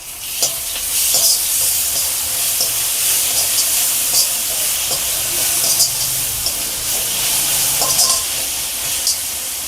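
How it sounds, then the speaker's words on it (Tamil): Ginger garlic paste fries in a hot pan with a steady sizzle and hiss, broken by scraping stirs and small pops, loud and close with no voices. "நல்லா பச்சை ஸ்மெல் போகிற வரைக்கும் நல்லா ஃப்ரை பண்ணலாம்."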